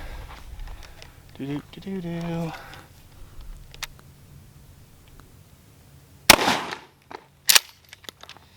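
Remington defensive shotgun fired at a target outdoors, two sharp loud blasts about a second apart, following a stretch of male speech.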